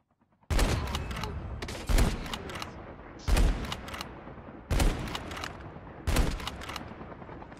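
In Call of Duty Mobile battle royale, heavy gunfire comes in five evenly spaced bursts, each a sharp loud volley of rapid shots that decays before the next, with no talk.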